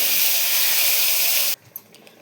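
Spices hit hot oil in a wok for a loche fish curry, giving a loud, steady sizzling hiss that cuts off abruptly, followed by a faint clink.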